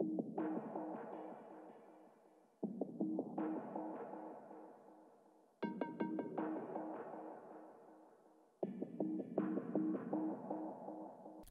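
A simple, quiet percussion loop from a music production repeats in four short phrases, with tight rhythmic hits and tonal, ringing layers cycling back each bar.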